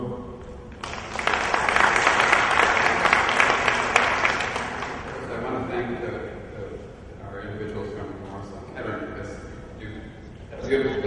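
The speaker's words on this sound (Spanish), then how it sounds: "así que los recibimos con un aplauso" Audience applause welcoming presenters at a catering-school event, a dense burst of clapping lasting about four seconds before fading under scattered crowd noise and voices.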